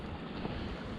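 Strong wind buffets a small fishing boat near an island shore, a loud, steady roar of gusting air and rushing water heard close to the microphone for a brief moment.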